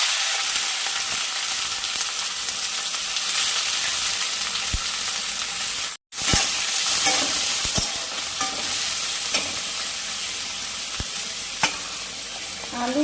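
Chopped onion fries in oil in a wok, a loud, continuous sizzle with periodic scrapes and taps of a spatula stirring, briefly cut off midway, with no talking.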